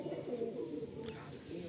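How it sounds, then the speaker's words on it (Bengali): Pigeons in a loft, including short white females with blue markings, cooing in a low steady murmur that runs unbroken throughout, close by and fairly quiet. "ভাইয়ের খুব পছন্দের পায়রা,"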